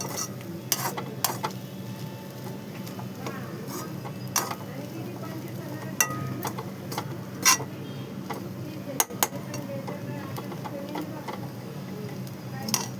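Fish roe bhurji with coriander is stirred in a pan, a spatula clinking and scraping against the metal in irregular taps and scrapes under a low steady background hiss.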